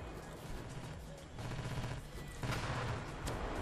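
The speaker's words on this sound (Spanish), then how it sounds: "Toma, y el disparo del Yomo" Gunfire from the war video game Ravenfield plays in dense bursts of overlapping shots, with rapid automatic fire rising in two louder volleys toward the end.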